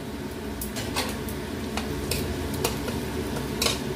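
Ginger-garlic paste hits softened onions in a hot pan for a capsicum chicken curry, making a lively sizzle broken by repeated sharp scrapes and clinks of a spatula stirring against the pan, with no voices.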